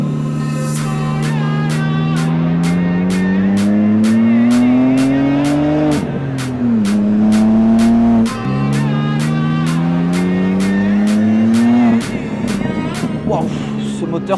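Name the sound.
sports car engine accelerating hard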